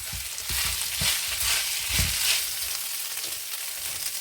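Rice being stir-fried with vegetables in a single pan over medium-low heat, a soft continuous sizzle broken by rhythmic scraping strokes of a spatula, fairly close and moderately quiet.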